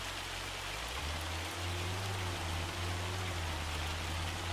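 Steady rain in a farming video game, a continuous even hiss of falling water with a low hum beneath, heard alone at moderate level.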